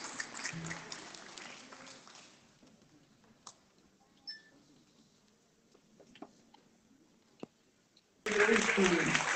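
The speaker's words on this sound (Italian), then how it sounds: "Un applauso alla bandiera tricolore." Clapping from a crowd at an outdoor Italian national unity and armed forces day ceremony, a short burst of applause at the start fading out, then quiet with a few clicks before loud clapping returns at the end.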